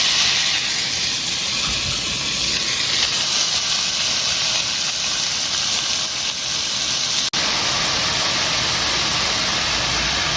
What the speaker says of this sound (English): Of course, I'm going to wash my hands.